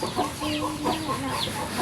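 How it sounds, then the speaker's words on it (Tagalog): Newly arrived chickens clucking around feeding time, several overlapping birds chattering nearby in a busy, continuous flock murmur. "Magpapakain tayo sa kanila ang bagdating ng mga manok ni kuya"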